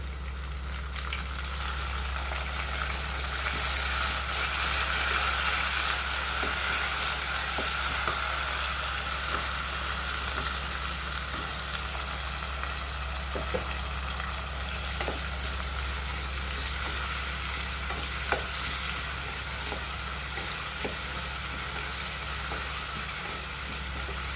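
Coriander and mint stirred into mutton biryani masala with browned onions frying in a pan, a steady loud sizzle running throughout with faint scraping stir clicks scattered over it.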